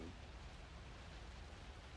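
Steady rain pours down in a dark forest in the video game Alan Wake 2, a dense, continuous hiss with low rumble that stays even and close throughout, with no voices.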